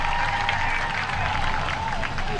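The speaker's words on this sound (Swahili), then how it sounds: "Let's give them a round of applause." A crowd at a live public event marking the FIFA World Cup trophy tour gives a sustained round of applause, loud and continuous, with faint voices and a tone mixed in.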